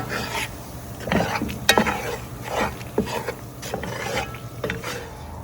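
A Cajun roux stirred in a pot over a high flame, giving steady rhythmic scraping strokes of a spoon against the pot bottom with no one talking.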